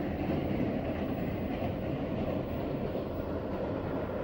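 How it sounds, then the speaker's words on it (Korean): A train rolling in near a cliffside cave temple on Yongdu Mountain in Miryang, a loud steady rumble of wheels and cars filling the whole stretch without pause. "때마침 시간 기차가 이렇게 들어오고 있네요"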